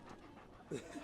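A dog at a Bark in the Park baseball event at Miller Park pants in quick, close, soft breaths over a noisy crowd background.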